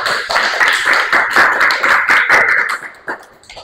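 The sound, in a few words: applause for Laila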